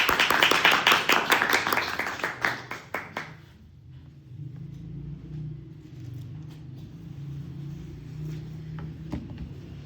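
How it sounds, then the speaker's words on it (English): Audience at a Toastmasters club meeting gives a short round of applause that fades out after a few seconds, leaving a low rumbling room background. "In your round of applause, everyone."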